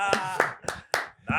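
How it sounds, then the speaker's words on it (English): Four or five sharp hand claps, close and separate, spaced unevenly over a brief moment in a casual indoor conversation, with a bit of voice mixed in. "Clap it up."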